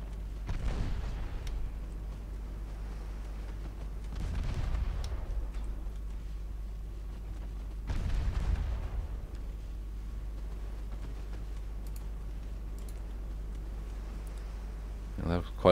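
Naval guns firing in Ultimate Admiral Dreadnoughts: three deep, rumbling booms spaced several seconds apart, each rolling out slowly over a steady low game hum, with another beginning at the very end.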